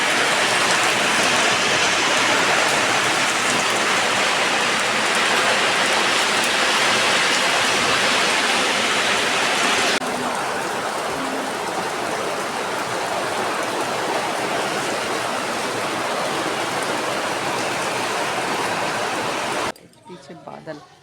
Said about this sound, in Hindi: बारिश आ गई बहुत तेज